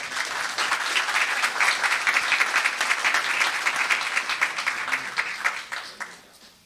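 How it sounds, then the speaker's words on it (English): A crowd at a Los Gatos town council meeting breaks into warm, sustained applause, dense clapping holding steady for several seconds before thinning out and fading. "Let's have a round of applause for Emmy."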